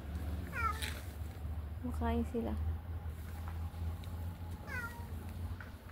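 Several cats meow while eating outside a condominium, giving short, near meows in loose bursts as a person talks over them against a low background hum.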